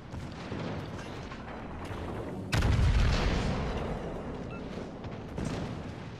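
Naval artillery booms in the World of Warships Legends video game, with one sharp heavy blast standing out over continuous rumbling battle noise and a few fainter distant shots.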